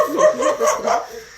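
Small dogs giving a short run of quick, close yips and barks, loud and unbroken by talk.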